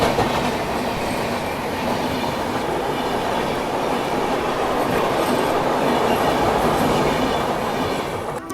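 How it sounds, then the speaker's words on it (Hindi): Dhanbad–Firozpur Cantt Ganga Sutlej Express passing close by near a village in the evening, a steady loud rumble with rhythmic clickety-clack of wheels on rail joints and faint wheel squeal, sustained throughout without talk. "और ये क्रॉस हो रही है धनबाद फिरोजपुर कैंट गंगा सतलज एक्सप्रेस।"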